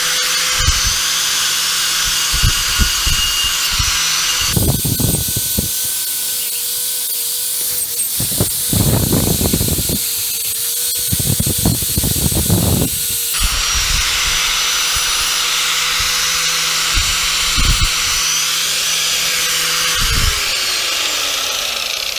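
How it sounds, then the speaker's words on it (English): A wire brush on a power grinder scrubs soot and old seasoning off a cast iron pan, loud whirring bursts starting and stopping in several close passes with steady motor hum between. "the wire brush does a pretty good job there"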